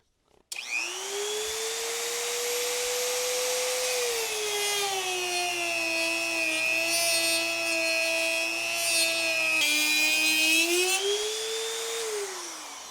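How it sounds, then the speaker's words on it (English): A Dremel rotary tool cuts through plastic during a trolling motor install, its loud continuous high whine holding steady for about twelve seconds, dipping in pitch under load midway and rising again near the end. "Now we're going to Dremel that. Let's cut some plastic."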